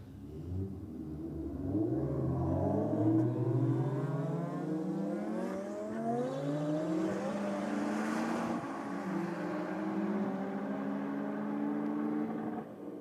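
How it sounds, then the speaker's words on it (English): A Lamborghini and a Toyota Corolla in a roll-start drag race, their engines revving hard together in long rising sweeps of pitch through the gears, loud and sustained from start to finish. "the Lambo back out again up against the Corolla. The Lambo was putting in some big miles per hour"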